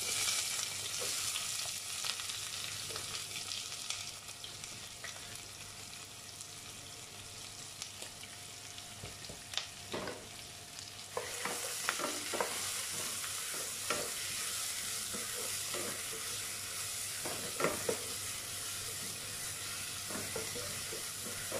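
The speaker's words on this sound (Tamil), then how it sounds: "ஸோ வெங்காயம் நல்லா வதங்கட்டும்." Onions fry in oil with cinnamon, cloves and cardamom for a beef biryani, giving a continuous quiet sizzle with occasional scraping clicks of a spoon stirring the pan, close by and without speech.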